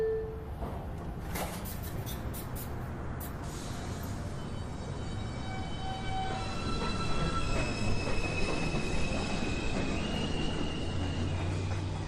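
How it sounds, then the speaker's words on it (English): A New York City subway 1 train pulls out of Beverly Road station, its wheels squealing sharply before a rolling rail rumble grows louder and steadier as it gathers speed; no one speaks. "This is a Manhattan-bound 1 train."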